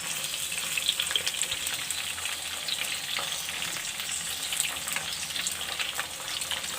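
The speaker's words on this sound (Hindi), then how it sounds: "इस तरीके से टमाटरों को हम हल्का फ्राई करेंगे।" Tomatoes frying lightly in a pan, a soft, even sizzle and crackle heard close, steady for several seconds with faint stirring sounds underneath.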